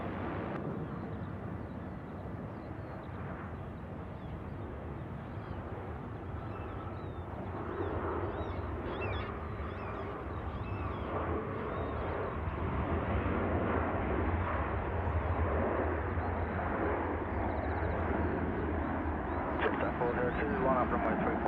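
Airbus A330 airliner taking off from runway 34 right at Sydney Airport, a steady broad jet roar that builds and grows louder toward the end, with voices talking over it.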